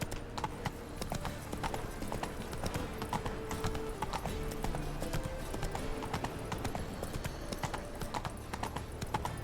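Roach, a horse in The Witcher 3 video game, gallops with steady, rapid clip-clop hoofbeats that run continuously at an even, moderate level, with no talk over them.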